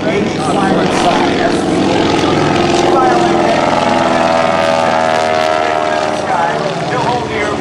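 A propeller-driven aerobatic airplane performs at the Fair St. Louis air show, its engine roaring loud and steady throughout, the pitch sweeping as it manoeuvres overhead.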